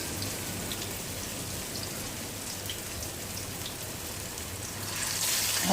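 Grated potato kababs fry in a pan over a low flame, giving a soft, steady crackling sizzle that swells louder near the end.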